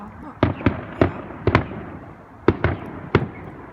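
Bonfire Night fireworks pop and crack in quick sharp bursts, about eight of them in irregular pairs and singles, loud and fairly near against a quiet background.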